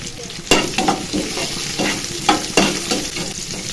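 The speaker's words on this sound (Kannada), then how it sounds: "ಈರುಳ್ಳಿ ಸ್ವಲ್ಪ ಗೋಲ್ಡನ್ ಬ್ರೌನ್ ಬರಬೇಕು, ಅಲ್ಲಿಗೂ ಚೆನ್ನಾಗಿ ಫ್ರೈ ಮಾಡ್ಕೊಳ್ಳಿ." Onions fry in a pan, sizzling steadily while a utensil scrapes and stirs them in a few distinct strokes, close and fairly loud with no talk.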